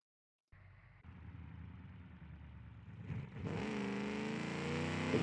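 A 1980-era race car engine in BeamNG.drive drones steadily, then surges louder as it revs up toward the end, close and continuous with no talking.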